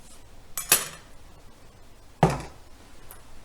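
Metal utensil striking a pot while stirring refried beans, two sharp clanks about a second and a half apart with a faint tap after, close and loud against a quiet kitchen background.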